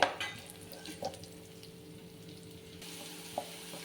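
Finely chopped garlic fries in oil in a pan for a garlic chicken dish, giving a faint, steady sizzle with a couple of brief clinks from stirring.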